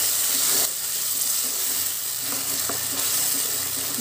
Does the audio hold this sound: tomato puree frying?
yes